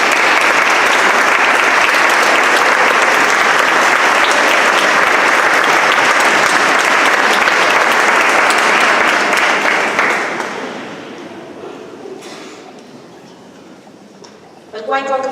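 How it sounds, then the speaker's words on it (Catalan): An audience at a sacred music concert by the Coral de Porreres choir claps loudly and steadily for about ten seconds. The applause then fades into near quiet, and a brief burst of sound follows at the very end. "M'agradaria un aplaudiment molt fort per ella."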